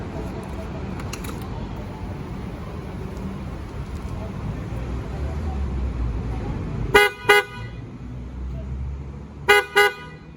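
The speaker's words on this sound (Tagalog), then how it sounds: "Then, yung busina naman, ganito kalakas." Horn of a Yamaha XMAX 300 scooter sounds in two pairs of short, loud honks, each pair quick double beeps, separated by a few seconds over a low background rumble, with a voice speaking earlier.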